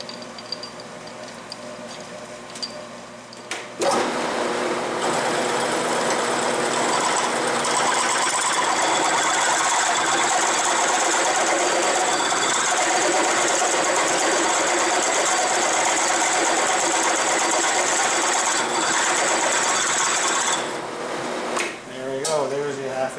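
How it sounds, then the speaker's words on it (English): Metal machining on a South Bend 13 lathe, drilling out holes in a backplate: a steady, loud mechanical whir with a dense hum that starts abruptly after a quiet opening, runs continuously for most of the clip and then winds down near the end. "I am now done remachining the holes."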